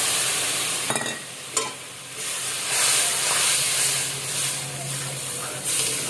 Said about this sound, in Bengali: এবার দিয়ে দেবো টক দই, ফাটিয়ে রেখেছিলাম, সেই টক দইটা দিয়ে দেবো।